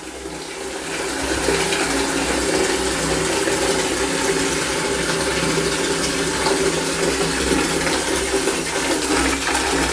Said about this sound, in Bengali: এই কল খোলা, কলের জল খাচ্ছে